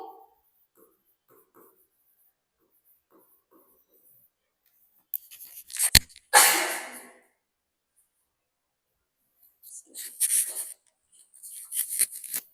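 Pen scratching on paper as an answer is written out during an English grammar lesson, a few short scribbling bursts separated by quiet pauses, close and fairly faint, with no talking.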